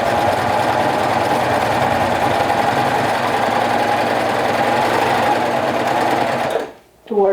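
Sewing machine top stitching a leggings hem: a loud, continuous mechanical whirr with a rapid needle rhythm that runs steadily, then stops abruptly near the end, followed by a brief voice.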